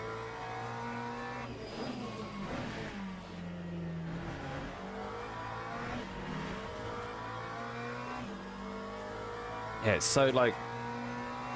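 A BMW race car in a Le Mans racing video game revs through several upshifts, each gear change dropping the engine note before it climbs again. A sharp burst of noise comes near the end, and a voice talks over it.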